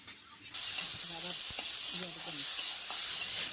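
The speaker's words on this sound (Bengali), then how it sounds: "দিয়ে আরও একবার ভালো করে নেড়ে চেড়ে পেঁয়াজগুলিকে একটু কষিয়ে নেব" Chopped onions sauté in a hot pan with a loud, steady broadband sizzle that starts abruptly after a quiet moment, joined by scraping stir strokes and a few faint background tones.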